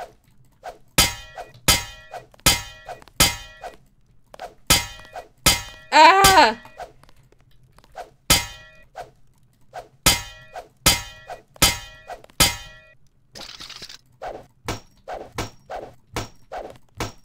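In the game Deus Ex, an object is smashed with a long run of sharp, metallic thunks and clanks in irregular bursts, loud and close, with a short shout mixed in partway through.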